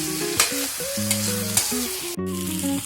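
Goat meat fries in a pan with a constant sizzle and a few faint utensil clinks, partly covered by tonal background music, with no talking.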